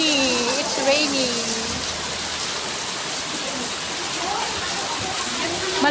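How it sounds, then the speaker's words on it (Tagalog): Steady rain falls in a continuous dense hiss throughout, loud and close, with people talking faintly beneath it. "Rainy, rainy. It's rainy."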